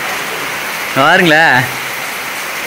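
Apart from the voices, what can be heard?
heavy rain on a hill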